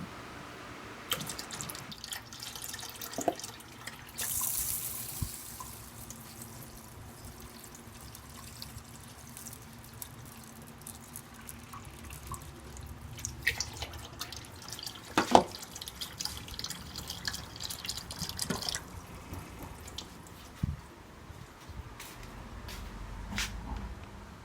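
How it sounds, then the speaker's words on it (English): Tap water runs and trickles into a pot of rice being washed in a kitchen, quiet and close, with intermittent splashes, drips and a few sharp clinks of the pot over a soft, steady flow. "I will now put in water."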